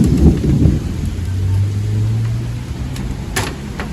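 A thunderstorm with rain: a deep rolling rumble of thunder over a steady wash of rainfall, fairly loud and close, with no voices.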